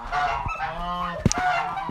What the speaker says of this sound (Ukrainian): Гуси в нас в загорожі